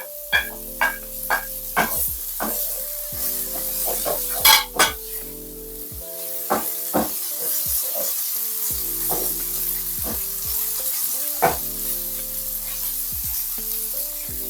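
Saltfish sizzles and fries in a pan with flour and black pepper, a steady crackling hiss broken by sharp stirring clacks of a utensil against the pan, close and continuous.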